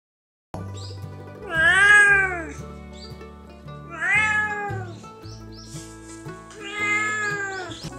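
A strong-willed, mostly indoor house cat meows three times, long and drawn-out with a caterwauling edge, loud and close, separated by short pauses over a steady low tonal background.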